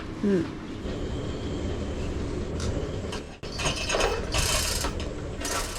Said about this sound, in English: Someone made a comment that that chain block needs some grease.